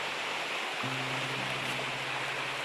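Steady broadband rush of a large waterfall plunging into a plunge pool on a mountain stream at a fishing spot near Tokyo, loud and continuous with no talk, a low hum entering partway through.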